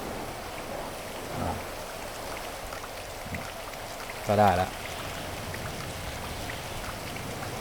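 Steady rain pours down in the video game GTA V, a dense, even hiss lasting throughout, with someone speaking briefly over it.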